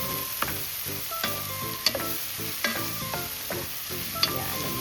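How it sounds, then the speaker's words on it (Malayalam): Onions sautéing in a pan for a simple chicken curry, a steady sizzle broken by repeated sharp clinks and scrapes of stirring, close and fairly loud with no talking. "ഞാനൊന്ന് വഴറ്റിക്കൊണ്ടിരിക്കുകയാണ്. ഈ സവാള ഒന്ന് വഴണ്ട് വരട്ടെ."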